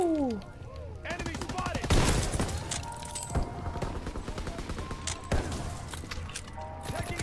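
Heavy automatic gunfire in the Call of Duty WW2 video game, rapid bursts with crashes and impacts, fairly loud and dense, with game voice callouts mixed in.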